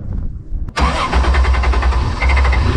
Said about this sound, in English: thankfully the car fired back up.